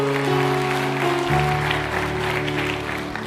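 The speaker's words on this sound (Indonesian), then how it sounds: "Tepuk tangan buat Indonesia." Congregation applauds in praise of Indonesia during a Saturday-night church service, a steady wash of clapping under sustained musical tones from keys or organ that shift pitch partway through.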